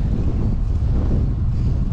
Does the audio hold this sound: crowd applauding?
no